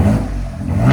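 A 2024 Ford Ranger Raptor's 3.0-litre twin-turbo V6 with an aftermarket exhaust, in Baja mode, revs hard and close, a deep loud throttle blip that dips briefly and then swells again.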